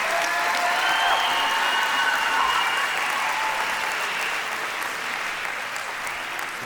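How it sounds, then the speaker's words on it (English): Sustained applause from the crowd for two professional fighters after a Muay Thai bout at a TFP 8 fight event, a dense steady clapping that fills the whole stretch and eases off slightly toward the end. "Let's get one final round of applause for these guys who put it all on the line tonight."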